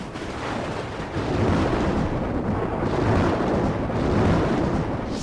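Deep rumbling thunder from an electrical storm rolls in broad swells, loud and sustained, with no voices over it.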